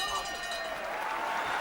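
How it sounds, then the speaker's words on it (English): A boxing crowd at a WBO 130lb title fight in Scotland applauds as spectators stand and the two fighters return to their corners, a steady wash of clapping with a commentator's voice running over it. "And applause as people stand as the two fighters go back to their corners"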